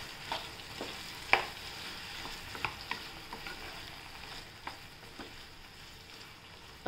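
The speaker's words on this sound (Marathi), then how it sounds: "टाकले आपण छान परतून घेऊया." Cluster beans stir-fried with garlic in oil in a pan, a soft continuous sizzle broken by occasional sharp clicks and scrapes of the spatula, fairly quiet and close, with no voices.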